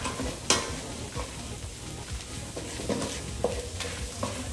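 Chili paste with crispy mackerel is stir-fried until dry in a pan, giving a crackling sizzle and repeated scraping strokes of a spatula at an uneven rhythm.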